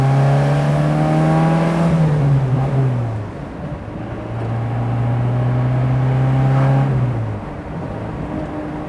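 A 1987 Alfa Romeo Spider engine revs up in two long pulls, pitch climbing steadily then dropping as gears change, loud and close with a throaty drone.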